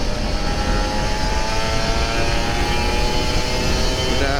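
A Kawasaki Ninja RR 150 motorcycle, warmed up after two weeks unused, revs loudly and close by, its steady high-pitched two-stroke buzz filling the whole stretch with slight pitch rises and no talk.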